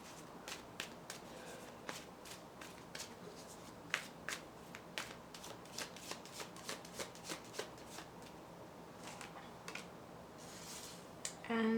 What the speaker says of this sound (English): after I shuffled and I pulled your card